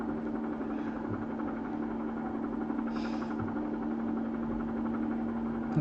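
A Bell 47 helicopter engine runs with a steady, droning mechanical hum and constant vibration, close and unchanging throughout.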